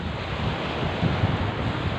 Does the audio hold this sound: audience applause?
no